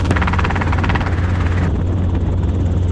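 A Robinson R22 helicopter in flight gives a loud, close, steady rotor and engine drone that stays unbroken across the whole stretch.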